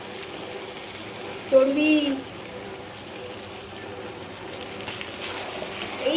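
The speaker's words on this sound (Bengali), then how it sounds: "এই মাংস কষা হয়ে গেছে, এবার আমি এর মধ্যে জল ঢেলে দেবো" Water is poured into a pan of braised mutton that has been frying for twenty minutes, a short loud splash and hiss followed by quiet bubbling sizzle, with a brief spoken word and another clatter near the end.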